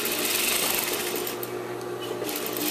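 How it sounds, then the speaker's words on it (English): A sewing machine runs steadily, stitching two fabric pieces of a custom shift dress together, with a loud, continuous mechanical whir and no talking. "Now I want to sew these two together."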